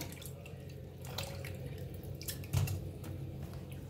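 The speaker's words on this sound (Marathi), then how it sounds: "तर वांग्याला सगळ्या असं पाण्यातनं काढून घेऊया." Cut eggplant pieces lifted out of a bowl of water give soft splashes and drips, with a brief louder slosh near the end, close and fairly quiet against a low steady hum.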